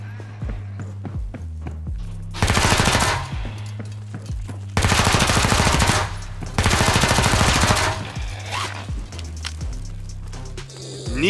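Bursts of automatic gunfire in Killing Floor 2, rapid loud volleys repeating every couple of seconds with shorter shots and footsteps between, over a steady game soundtrack.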